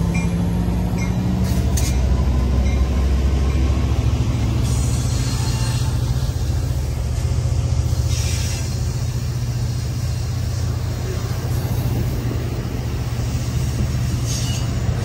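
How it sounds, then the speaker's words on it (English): Amtrak Capital Corridor train 541 departing Richmond station behind two F59PHI diesel locomotives, a steady loud low engine rumble with rolling rail noise throughout, close by and continuous with no talk. "Amtrak Capital Corridor train 541. Now departing Richmond Station, doubleheader F59 PHI 2010 and F59 PHI"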